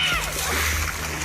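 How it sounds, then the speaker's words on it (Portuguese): Two girls struggle and splash in the water during a drowning incident, steady sloshing and splashing that fills the clip with broadband noise, with a faint voice mixed in. "As duas amigas se debatem na água."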